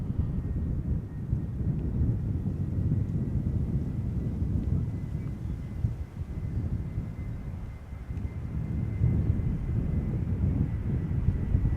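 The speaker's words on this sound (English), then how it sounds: "EasyJet A319 arriving from London Luton" An EasyJet Airbus A319 arriving from London Luton lands at Schiphol, its broad low engine rumble steady and fairly loud throughout, with wind buffeting the microphone and another airliner arriving in the background.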